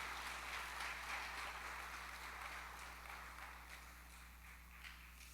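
A church congregation claps hands during a sermon, a faint, steady wash of clapping heard from a distance over a low electrical hum, with no speech.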